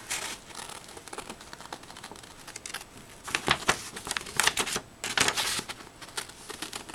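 Scissors snip through paper for a craft frame in bursts of crisp cutting and rustling that grow louder and busier toward the end, close by, with no speech.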